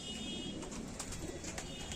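Pigeons in a backyard loft setup in Krishnanagar, Nadia, coo softly and continuously, a faint low murmur with no voices.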